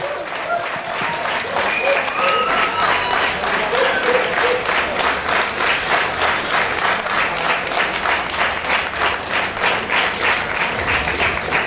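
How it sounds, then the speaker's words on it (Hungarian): Applause from a concert audience in Polgárdi for the youngest musicians of a mixed choir and a band as they take a bow, a loud sustained round of clapping swelling into rhythmic, pulsing unison claps throughout. "Egy nagy tapsot nekik"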